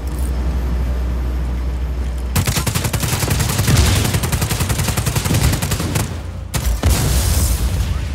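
Rapid automatic gunfire blasts away at a generator in the video game Just Cause 4, a loud, dense stream of shots with heavy booming impacts that pauses briefly near the end before resuming.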